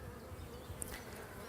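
Honeybees hum steadily around a beehive frame that they are still building, making a soft, continuous buzz with no voices.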